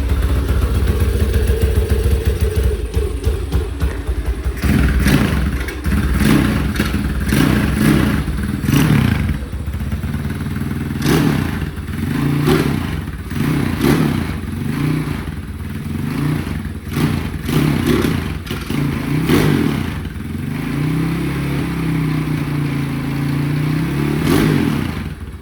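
A 2021 Apollo RXF 150 dirt bike with a race exhaust idles loudly up close, then gets blipped through a series of sharp throttle revs that rise and drop in a choppy rhythm.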